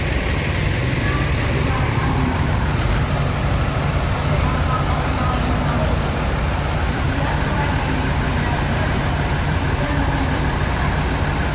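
Buses rumble at a busy bus terminal in Malang during the post-Lebaran return travel, a steady low engine drone and idling hum with traffic noise throughout, close and continuous.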